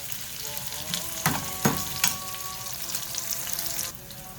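Sambar tadka tempering frying in a pan, a steady close crackling sizzle with a few louder pops and stirring scrapes, continuing evenly before easing slightly at the end.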